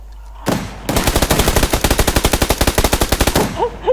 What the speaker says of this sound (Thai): ยิงอะไรวะ ปืนกลเหรอ